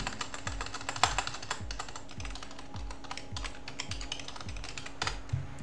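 Typing on a computer keyboard to fix a mistake, with quick close clicks and taps in an irregular rhythm and a few sharper keystrokes standing out, no voice over it.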